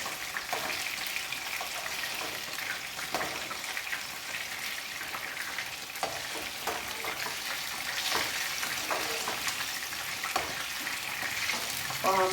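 Pieces of chicken 65 sizzle and crackle steadily in hot oil as they are turned over, a dense frying hiss with occasional sharper pops and faint clinks running throughout.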